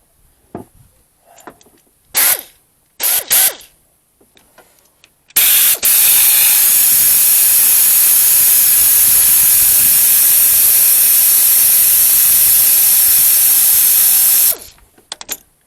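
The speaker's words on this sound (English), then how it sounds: "Not a good thing when you forget to plug the compressor back in." A few short mechanical clicks, then a loud steady hiss of escaping air from an air compressor runs on for about nine seconds before cutting off, during timing belt removal on a 2005 Dodge Neon 2.0.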